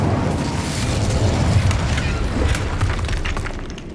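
An Incendio fire spell goes off in Hogwarts Legacy as a loud, sustained roaring blast. Dense low rumble and crackling run through the whole stretch.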